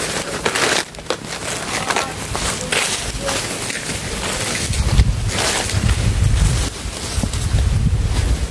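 Strong gusts of wind buffeting the microphone outdoors, a rough, rumbling roar that swells and drops in waves, loudest in the second half, with occasional faint voices underneath.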